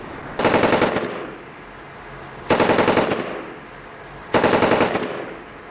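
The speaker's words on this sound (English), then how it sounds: "Using 2 .240 machine guns and a .50 caliber, these soldiers lit up the night with tracer rounds" Two .240 machine guns and a .50 caliber fire tracer rounds at night from a remote firebase in Afghanistan, heard as three loud, sustained bursts of rapid automatic fire spaced about two seconds apart, each trailing off briefly.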